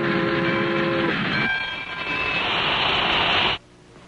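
Train pulling in with its horn blowing in a cartoon, loud sustained multi-tone horn blasts over rumbling rolling wheels, which cut off sharply at the end, leaving quieter rail noise.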